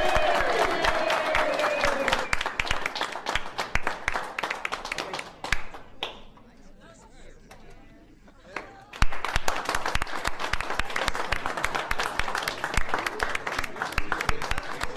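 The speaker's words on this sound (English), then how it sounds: "give a big round of applause" A studio audience at a sitcom taping claps and cheers loudly, dips briefly to quieter chatter and scattered claps midway, then surges back into full, dense applause.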